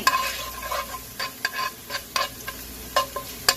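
Frozen squid and holy basil sizzle in a very hot wok while a metal utensil scrapes and clatters against it in irregular stirring strokes, close and fairly loud.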